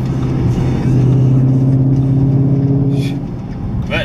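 A 2015 Ford Mustang GT with a Stainless Works exhaust drones loudly and steadily from inside the cabin while cruising, a deep, even engine hum that holds its pitch throughout.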